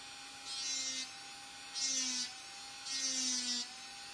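A handheld rotary tool fitted with a small disc engraves short lines, giving three separate high whines of roughly half a second to a second each, spaced by brief pauses, fairly quiet and close with no talk.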